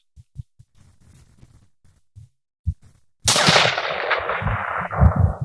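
One loud rifle shot firing 7 PRC ammunition during a velocity test at a range, a sudden crack that rings out and decays over about two seconds after a few soft handling knocks.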